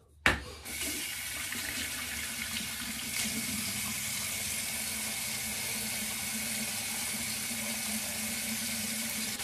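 Hot water gushes from a bathroom tap in a steady, hissing stream that starts with a splashy burst and then runs continuously and evenly, close by and alone.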